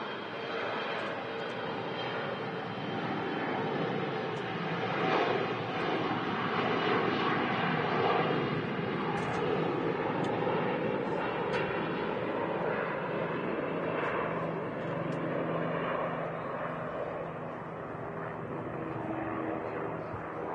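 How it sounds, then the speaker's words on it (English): A CRJ jet airliner departs Manchester Airport bound for Copenhagen, Denmark, its engines a steady, broad roar that swells slightly midway and holds loud throughout, with a helicopter also flying nearby. "There she goes, the CRJ heading back to Copenhagen, Denmark."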